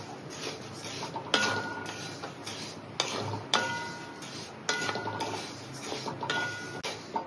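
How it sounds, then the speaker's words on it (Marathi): Moong dal dry-roasting in a pan, with a spoon scraping and clinking against the metal in repeated bursts of stirring, fairly quiet and alone. "आता भाजून घेऊया मुगाची डाळ"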